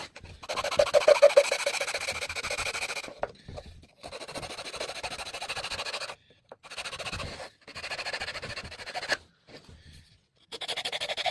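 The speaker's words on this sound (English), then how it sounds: "That's how quick a rasp works." A wood rasp shaping a wooden dagger, heard close as bursts of coarse scraping strokes broken by short silent gaps.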